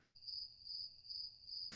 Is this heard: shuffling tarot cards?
no